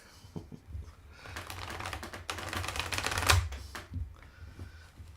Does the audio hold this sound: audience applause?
no